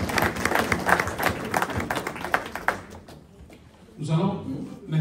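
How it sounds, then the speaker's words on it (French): Applause from an audience at a political party's third anniversary celebration in the DRC, heard as a burst of clapping after a speaker talks over a noisy crowd. "On peut les applaudir."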